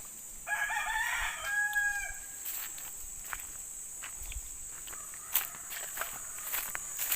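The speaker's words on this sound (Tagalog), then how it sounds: "Yun, may mga manok dito." A rooster crows once, close and loud, near chickens outdoors, then quieter clucks and scuffling footsteps follow over a steady background hum.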